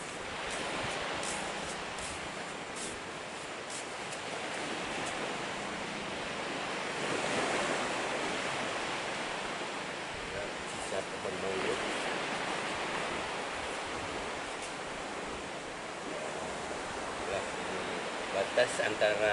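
Ocean surf rolls continuously onto a beach on the east coast of Aceh, a steady wash of breaking waves with wind rushing across the microphone.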